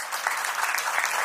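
Audience clapping at a farm product knowledge event in Surat, a brief dense round of applause from many hands, steady and fairly loud.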